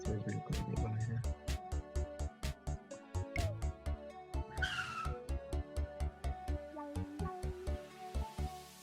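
Video game car engine with tire squeal and skidding as a vehicle drives by, a steady rhythmic pulsing beat of music running loudly throughout alongside it.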